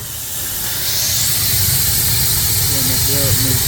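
A steam boiler's blower hisses in a steady broadband rush that swells in strongly just under a second in and holds close and loud, with a voice talking briefly over it near the end.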